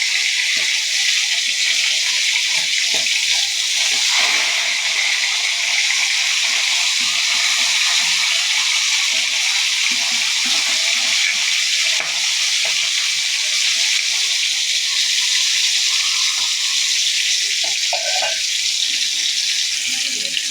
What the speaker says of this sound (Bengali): আজ আমি মাছটা খুব ভালো করে ভেজে নিচ্ছি।